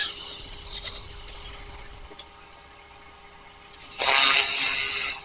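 Hand sanding on a small carved wooden figure's leg: two bursts of harsh, raspy rubbing strokes, close and fairly loud, separated by a brief quieter pause, with no voices.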